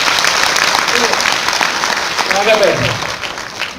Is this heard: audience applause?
yes